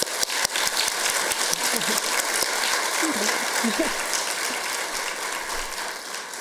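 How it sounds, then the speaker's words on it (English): A round of applause rises from the audience at a school readiness symposium, a steady crackle of many hands that lasts the whole stretch, with faint voices underneath. "So let's give a quick round of applause."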